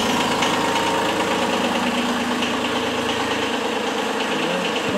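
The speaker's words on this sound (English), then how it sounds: "So we'll go ahead and start the tractor here." A Kubota B2301 compact tractor engine runs at a steady, loud idle close by, a continuous diesel rumble with a slight knocking texture.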